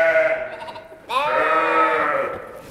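Young lambs on a farm bleat near and loud at feeding time: a wavering bleat that fades, then a second, stronger cry that holds before tailing off.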